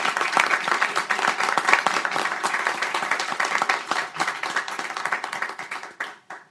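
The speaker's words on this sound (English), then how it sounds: "So let's give our students another big round of applause." Audience applause for students at the close of a resolution event in Washington, D.C., a steady wash of clapping hands that holds strong for several seconds before thinning out and fading near the end.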